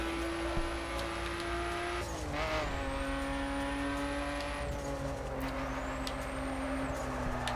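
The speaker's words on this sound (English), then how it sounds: "Yep, driving in snow for sure." A car in The Crew drives over snowy roads with a steady engine drone that rises and falls through gear changes, while high whines and brief skid-like squeals sit over the continuous motor.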